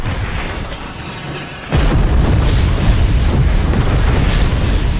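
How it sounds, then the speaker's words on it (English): Missile explosion in the video game Forts, a sudden loud boom cutting in after a quieter stretch, followed by a sustained heavy roar of blast and debris with no talking. "Nice missile snipe."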